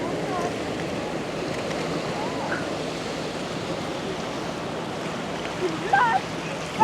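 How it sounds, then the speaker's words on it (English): Gentle, steady wash of water with only slight motion and small waves, a soft continuous hiss at low level with a few faint splashes and lapping sounds near the end. "Just a little bit of motion in the water, not big waves or anything"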